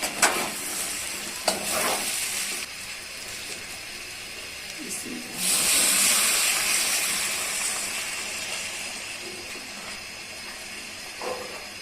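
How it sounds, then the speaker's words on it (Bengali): Boiled hot water poured over fried rice grains in a pot for chicken biryani, setting off a loud burst of sizzling halfway through that slowly settles into a steady frying hiss, after quieter stirring and scraping sounds. "এখন আগে থেকে ফুটিয়ে রাখা গরম পানি দিয়ে দিব।"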